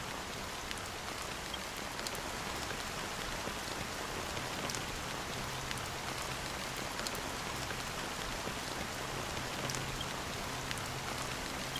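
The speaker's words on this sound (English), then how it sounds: "how long has this rain been going on for?" Steady rain falls in Honkai: Star Rail, an even, continuous hiss of drops pattering on surfaces, heard alone at low volume throughout.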